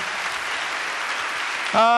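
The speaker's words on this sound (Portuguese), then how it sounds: "Queria que vocês aplaudissem esses homens e essas mulheres maravilhosos." A church congregation applauds in a dense, sustained wash of clapping that fills the room, before a tonal voice or music rises over it at the very end.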